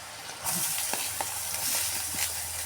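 Oil spattering in a pan as turmeric and asafoetida fry for a potato curry, a close hissing sizzle that swells after a quiet start, with faint pops and scrapes.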